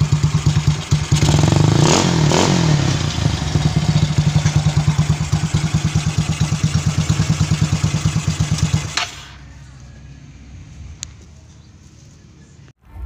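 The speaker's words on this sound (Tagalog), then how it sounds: "Narinig nyo na yung soundcheck ng chicken pipe natin, no?" Yamaha Mio motorcycle fitted with a Namban chicken pipe exhaust, idling and revving loudly up close with a rapid rumbling pulse and throttle blips, then suddenly cutting to a quieter low idle, with a few faint clicks afterward.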